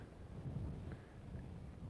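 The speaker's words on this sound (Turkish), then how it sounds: "Muhteşem bir rüzgar var. Şu an mikrofonda konuşuyorum." Strong wind buffets the microphone in Kömürlük Valley near Güzelyurt, Cappadocia, Turkey, producing a steady low rumbling roar throughout with no clear voices.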